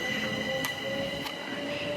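A Class 377 electric passenger train approaches at Fishersgate on the Chichester to Brighton line, a steady rolling rumble with faint squealing wheel tones and a couple of sharp rail clicks, heard from the lineside.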